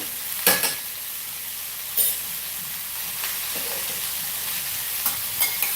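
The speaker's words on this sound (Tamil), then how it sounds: "இது நல்லா வதக்கி விட்டுக்கலாம்" Vegetables sautéing for carrot-bean poriyal in a home kitchen pan: a steady sizzle runs throughout, with a few sharp spoon scrapes and clinks as the mix is stirred, close and loud, with no voices.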